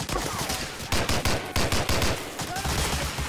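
Rapid gunfire in the World War II shooter game Medal of Honor: Allied Assault, loud repeated bursts of rifle and machine-gun shots close up, with shouting voices mixed in.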